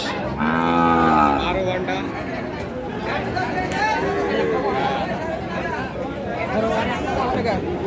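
A Sahiwal bull calf lets out one loud, drawn-out moo near the start at a busy cattle market, then crowd chatter and talking carry on around it.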